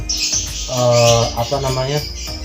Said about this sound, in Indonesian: mungkin ini burung udah gacor